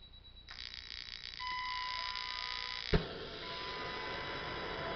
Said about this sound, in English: Sorry for the beeping. My transmitter is about to die.